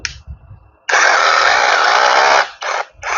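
A power drill running in hammer mode roars in a loud sustained burst, preceded by a short burst and low knocking, then stops and restarts in two brief bursts.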